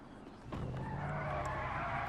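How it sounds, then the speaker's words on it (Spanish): A video game car pulls up and skids in a role-play heist game, tires squealing in a sustained screech over the engine after a brief quiet start, fairly loud and close. "Voy a traer el coche para aquí."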